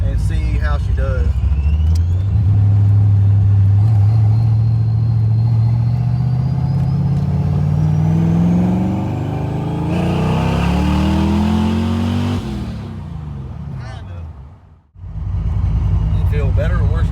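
A car's engine revs up during a test drive, its loud drone climbing steadily in pitch for about twelve seconds before dropping back and briefly dipping near the end, heard from inside the cabin.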